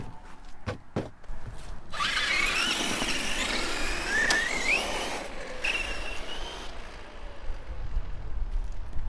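A brushless Traxxas Summit RC truck on a 6S battery drives and jumps outdoors. A few hard knocks are followed by a loud, sustained electric motor whine that rises and falls in pitch as it speeds up, with rough rolling noise throughout.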